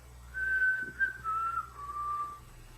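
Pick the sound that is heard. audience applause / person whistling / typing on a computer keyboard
person whistling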